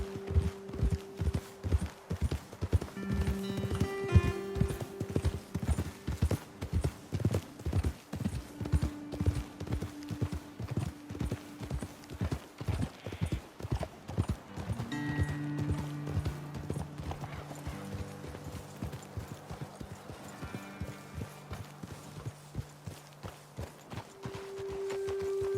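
Horses' hooves clip-clop steadily as riders travel at a walk in Red Dead Redemption 2, a continuous rhythmic patter that runs throughout with faint ambient tones behind it.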